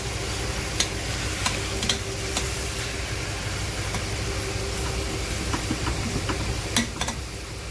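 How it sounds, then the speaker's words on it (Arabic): Chicken mandi ingredients get stirred in a single pot, with a spoon scraping and clicking against the metal in sparse taps over a soft, steady low sizzle. "ودي تقليبه عشان المكونات كلها تندمج مع بعضها"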